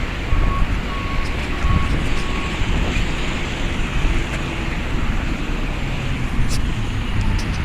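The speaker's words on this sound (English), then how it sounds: "We still got the disgustment with the garbage trucks and picking up garbage everywhere I go." Garbage trucks picking up garbage on a city street: continuous loud rumble of heavy engines and traffic with wind buffeting, and a faint beep early on.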